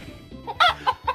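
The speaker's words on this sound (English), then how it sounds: "We're on the farm with the chickens." Chickens cluck on a farm in a retro video game, a series of close, clear clucks and squawks in an uneven rhythm with one louder call in the middle.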